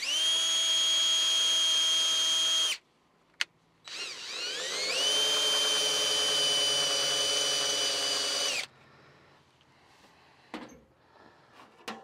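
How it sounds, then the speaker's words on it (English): A power drill bores a pilot hole in a part of a 1976 Mercruiser 120 hp boat engine. Two close, whining bursts sound, a short one and then a longer one whose pitch drops, followed by quiet clinks and handling noise. "now I can go in there and I'm going to use my drill. I'm going to drill in there just a little bit"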